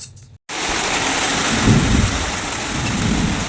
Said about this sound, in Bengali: কিভাবে বৃষ্টি নেমে গেল দেখো ফ্রেন্ডস